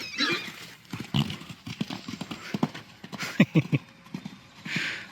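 Horse hooves clopping at a walk, a rhythmic series of close hoof strikes, with a brief snort or breath near the end.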